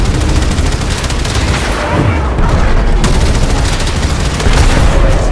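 The fast-firing APOC turret on a Railjack in the Warframe video game blasts a continuous, loud stream of rapid shots, dense and roaring throughout with no break.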